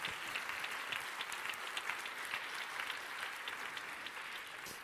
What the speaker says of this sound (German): Und zwar einen großen Applaus.